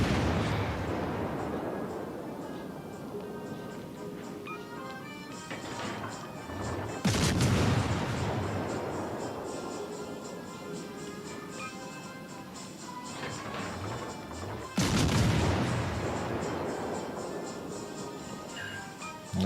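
Naval guns fire in World of Warships: Legends: two loud, booming salvos roughly eight seconds apart, each rolling off into a long rumble over continuous battle and engine noise.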